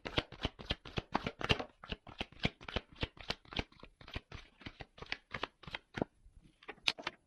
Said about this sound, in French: je prends les cartes.